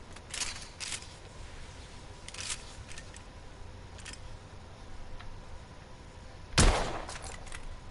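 A rifle fitted with a telescopic sight fires once in a Victorian-era shooter game, a single sharp, loud crack standing out above a low ambient background with a few fainter clicks and rustles earlier.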